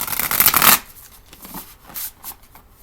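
A brisk riffle of oracle cards up close, then a few light taps and shuffles trailing off quietly.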